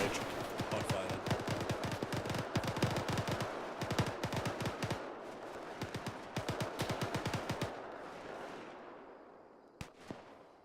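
A squad unleashes sustained gunfire in Arma, dense overlapping rifle and machine-gun shots cracking rapidly for several seconds before thinning out to a few scattered final reports.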